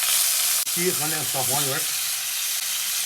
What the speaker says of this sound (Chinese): 锅中稍来一点点油，剩菜下锅